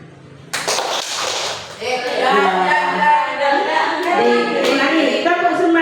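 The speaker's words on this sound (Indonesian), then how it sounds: "Lagi tepuk semangat." Teachers doing a tepuk semangat spirit clap: a few sharp group claps near the start, then a sustained chorus of voices chanting along in rhythm, fairly loud and close.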